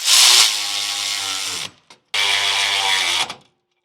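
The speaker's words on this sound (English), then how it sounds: "I have an electric ratchet, 9/16 wrench on the backside, 9/16 socket." An electric ratchet with a 9/16 socket snugs down crossmember bolts on a 2025 Grand Design Reflection fifth-wheel: a loud, steady motor whir runs about a second and a half, cuts off, then a second equally long burst follows.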